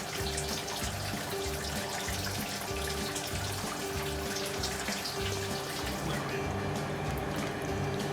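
Liquid running into a Ss Brewtech mash tun over the grain bed during home brewing, a steady continuous splashing and trickling flow with a faint background hum.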